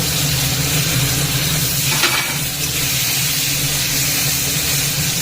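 Whole spices and turmeric sizzling in hot oil as the tempering for a Bengali fish curry with potatoes, a dense steady frying hiss that fills the whole stretch with no talk over it.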